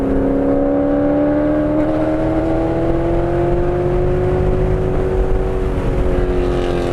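A Mercedes GLE63 AMG V8 drones loudly on a race track in one continuous pass, its engine pitch climbing steadily with a brief lurch near the end.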